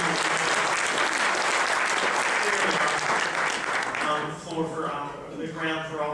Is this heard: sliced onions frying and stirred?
no